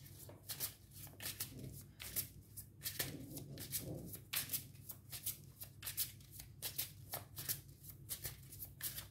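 Tarot cards being shuffled during a reading, a steady run of crisp riffling and slapping bursts close to the mic over a low background hum, with no talking.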